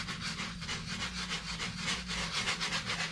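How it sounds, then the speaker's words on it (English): A paintbrush scrubs oil painting medium into canvas in small circular strokes, giving a close, rhythmic rasping swish that repeats steadily about every third of a second. "go in these little circular strokes like this, grind that paint in the canvas holes"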